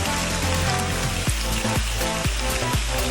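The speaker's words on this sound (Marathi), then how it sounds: "पाऊस पडत आहे खूप." Heavy rain falls on a mountain trekking trail to Bhimashankar, a loud, dense hiss of drops beating on surfaces, steady throughout with no voices.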